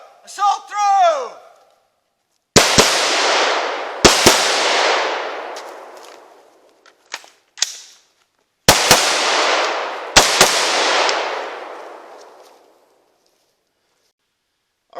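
Four loud, sharp gunshots crack in two pairs, each echoing and decaying over a second or two outdoors during a combat reload drill, with someone shouting briefly at the start and between shots.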